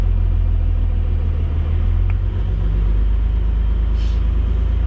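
A truck towing a trailer that carries a Cummins project drones along with a constant low engine rumble and road noise, steady and close throughout with no talking.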